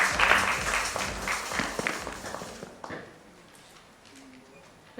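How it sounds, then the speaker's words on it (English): An audience at a nursing conference opening session in a Mumbai hotel hall claps for a speaker, dense applause that thins out and fades to near quiet after a few seconds. "Please have a huge round of applause for her."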